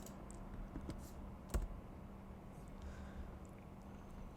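Quiet typing on a computer keyboard while entering a command, faint scattered key clicks with one sharper tap near the middle over low room hum.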